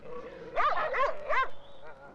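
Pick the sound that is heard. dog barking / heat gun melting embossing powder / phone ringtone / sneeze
dog barking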